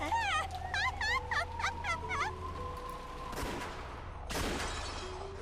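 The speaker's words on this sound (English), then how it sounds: "The two yells and the sound of gunfire thundered across the dark rose garden." Rapid bursts of gunfire crack out in the visual novel game Umineko no Naku Koro ni, followed by a couple of heavier booming shots, with a sustained electronic tone underneath.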